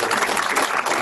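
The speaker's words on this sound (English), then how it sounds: "how about a round of applause for a wonderful panel?" A room full of people gives sustained, even applause to a panel at an academic commons event, a brief, close wash of clapping with no pauses.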